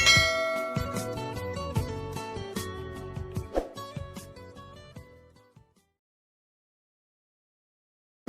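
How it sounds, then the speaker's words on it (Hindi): A run of bright ringing bell tones, struck repeatedly over about five seconds as a dense chiming cluster that rings out and decays into silence, with a brief click at the very end. "सब्सक्राइब करते वक्त ना घंटी बजा देना"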